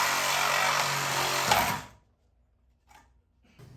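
A power tool cuts 2x6 wood blocking for garage ceiling joists, a loud whining buzz that runs steadily for about two seconds and then stops, followed by quiet with a couple of faint knocks.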